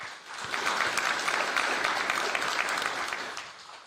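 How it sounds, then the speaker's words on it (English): An audience at the Miss Heilala pageant applauds the panel of judges, a dense, steady wash of clapping that swells quickly, holds for several seconds and tapers off at the end. "A round of applause for our panel of judges."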